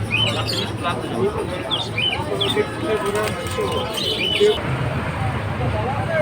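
Pigeons coo and chirp amid the bustle of a pigeon market at Hasnabad, the birds' calls scattered and fairly near beneath steady crowd noise and someone talking.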